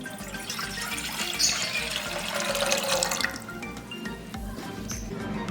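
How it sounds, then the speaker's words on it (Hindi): Water running and splashing steadily as two cups are poured into a cooking pot to be set to boil for homemade soy sauce, a continuous close trickle with drips that eases off slightly partway through, no talking. "2 कप पानी डाल के इसको बॉईल करने रख देती हूँ।"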